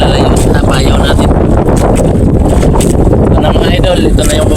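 Strong, steady wind roars across the microphone at sea while fishing, a constant loud rush with buffeting gusts and no pauses.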